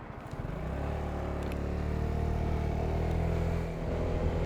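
Honda Forza MF17 scooter riding on the road: a steady, close engine drone with wind rush, holding an even pace with a slight dip before picking up again, no talk.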